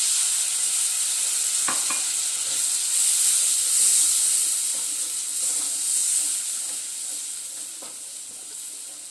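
Chicken curry gravy bubbles and simmers in a pan with a steady hiss and sizzle, plus a few soft spoon clinks, continuous and close.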